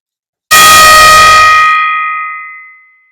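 A single struck gong rings out loudly after a moment of silence, its bright shimmering tones holding and then slowly decaying over a few seconds, with no other sound.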